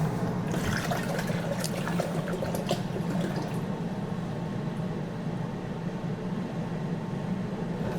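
Spring water pours steadily into a pot for pickle brine, a continuous splashing trickle that starts fuller and softens slightly as it goes on.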